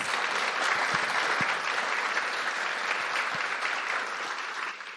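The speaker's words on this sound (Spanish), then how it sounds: "Por favor, el fuerte aplauso para cada una de ellas." A large audience applauds steadily for the speakers at the close of a gender equity panel, a dense, continuous wash of clapping that fills the room and tapers slightly near the end.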